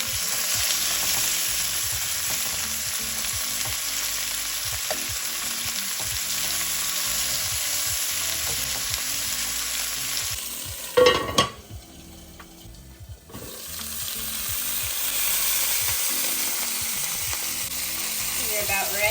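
Chicken pieces for halal-cart chicken and rice sizzle loudly in a hot pan, a steady crackling fry with occasional stirring and pan clatter; a short break near the middle where the hiss drops before resuming strong.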